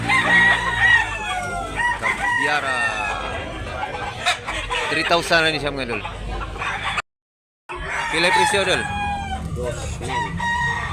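Roosters and hens at a chicken market in Tabunok, Talisay, Cebu, with repeated crowing and steady clucking close by and loud, under someone talking throughout, broken by a brief silent gap.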